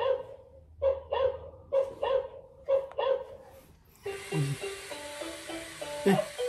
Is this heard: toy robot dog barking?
yes